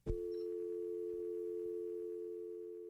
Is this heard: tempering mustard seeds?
no